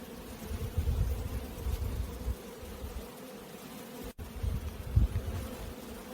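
Honeybees hum and buzz steadily around an opened hive frame with brood and a young laying queen, a dense close swarm drone with slight swells and one brief dropout.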